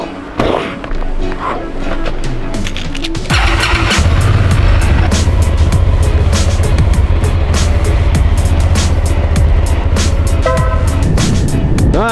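A Hyosung GV650 Aquila motorcycle starts after a short crank and then idles with a loud, steady, deep engine rumble, close by, with no one talking.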